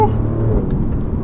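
An Alfa Romeo Giulia Quadrifoglio drives off with a loud, close engine rumble and rising rev, rolling steadily with a faint whir above and no talk over it.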